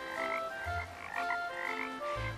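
Frogs croak repeatedly in a dense chorus, with a steady layered rhythm of calls and low pulsing bursts, fairly loud and close, with no talking.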